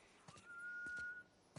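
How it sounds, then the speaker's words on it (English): A person whistles a single sustained clear tone for about a second, fairly faint, with a few soft clicks and knocks around it. "I'm whistling."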